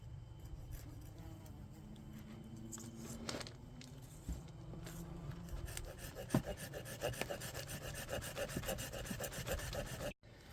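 A saw works through the bottom of an air-layered Chinese fringe plant, a close, quiet run of rasping back-and-forth strokes through wood that grows more rhythmic toward the end, with no talk.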